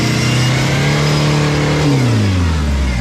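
A modified Toyota Hilux rally truck engine revs loudly and up close at a rally event. The pitch holds high, then drops away as the throttle eases off.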